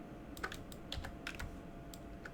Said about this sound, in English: hit 1 on the keyboard